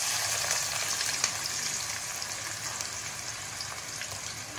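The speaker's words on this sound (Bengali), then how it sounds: "ওই একই তেলে আমি পেঁয়াজগুলো ভেজে নেব" Finely chopped onions fry in oil left from frying fish, a dense continuous sizzle and hiss that holds steady throughout, close and fairly loud, with no speech.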